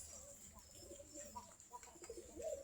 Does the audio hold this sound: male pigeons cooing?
yes